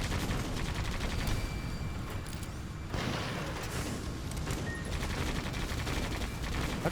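Weapon fire from the video game Sand Land comes as a dense, continuous crackle of rapid shots in a busy battle, loud and unbroken throughout apart from a brief dip midway.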